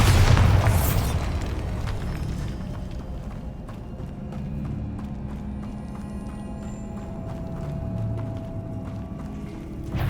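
A Bombarda explosion spell from the Hogwarts Legacy video game goes off with a loud, deep boom at the start, then rumbling, crackling game effects and clattering sounds continue steadily underneath.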